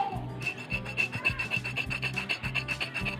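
A sharpening stone for machetes rubs back and forth across a wooden piggy bank in a steady rhythmic rasp, about a dozen close, scraping strokes with a faint whistling squeak on each pass.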